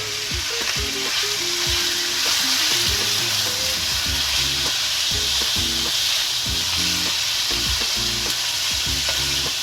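Chicken pieces fry in a pan with ginger paste for chicken jalfrezi, a loud continuous sizzle with repeated scraping stirs and utensil knocks close up, no voices.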